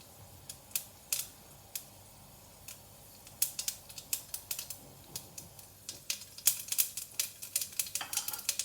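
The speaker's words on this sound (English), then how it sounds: "So the mustard has started spluttering." Mustard seeds splutter in hot oil for tempering, sharp irregular pops and crackles that start sparse and grow quicker and denser over a quiet low sizzle.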